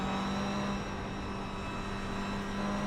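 A race car in iRacing runs on a wet, damp track as its driver feathers the throttle, the engine holding a steady, even drone with little variation. The sound is close and continuous, with no talking.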